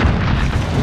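An explosive detonates in the shooter game Call of Duty: Modern Warfare, a loud, dense, sustained boom filling the brief moment with heavy low rumble.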